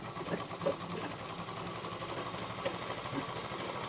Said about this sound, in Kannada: ಇವಾಗ ಹಿಂಗೆ ಸ್ಟ್ರೇಟ್ ಒಂದು ಹೊಲಿಗೆ ಹಾಕೋಬೇಕು ನೋಡ್ರಿ